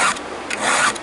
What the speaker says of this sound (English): just run the file over it quick between every time you fill the tank